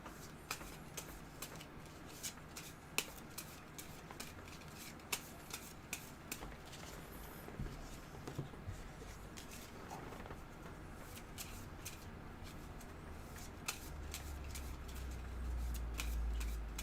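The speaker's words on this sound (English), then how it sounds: "Give it one last shuffle here" A deck of playing cards being shuffled, faint and close, with a steady run of light rapid clicks and riffles and a soft thump near the end, no talk.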